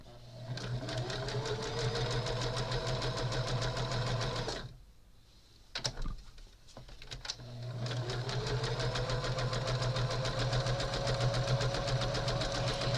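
A sewing machine runs steadily stitching strips of quilt block fabric, loud and close with a constant mechanical hum, pausing briefly midway with a few handling thumps before resuming the same even whir.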